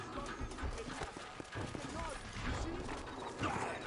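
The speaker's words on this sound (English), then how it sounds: "Just get on the horse, bro." A horse in the video game Red Dead Redemption Undead Nightmare trots with steady clip-clop hoofbeats and lets out a whinny, while someone talks over the game's noisy action.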